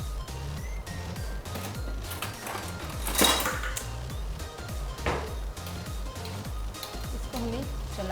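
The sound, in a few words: stirring food in a cooking pot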